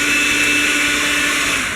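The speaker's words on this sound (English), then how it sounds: "so now the sugar and the butter has been beaten" An electric mixer beats butter and sugar for Swedish spice cookies, giving a loud, continuous, close whirring hum with no pauses.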